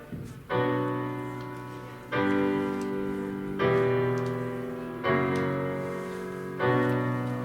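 Sustained minor-key chords from the Hamilton score change in a steady doo-wop progression, five held chords each struck and slowly fading, played alone with no voices.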